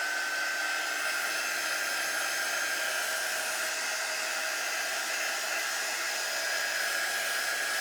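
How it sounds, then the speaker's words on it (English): Hair dryer running steadily for several seconds with an even, unbroken blowing whine, drying a handmade reversible craft door hanger, close and loud with no talking. "Let me hit this with the dryer for just a second."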